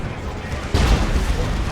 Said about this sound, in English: That was a Demolisher Cannon shot, I think.